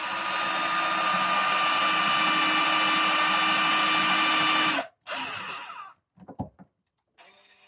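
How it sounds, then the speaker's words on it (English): Power drill boring through a printed plastic part for an Ender 3 Chimera printer: a loud, steady whining drone for nearly five seconds, then it cuts out, followed by a short restart and a few brief spurts and clicks. "Let's hope I can now drill through this successfully"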